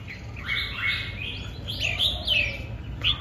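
White pet songbirds chirp in bright, whistled bursts, several short calls and trilling phrases coming close together and fairly near, over a low background hum with no talking.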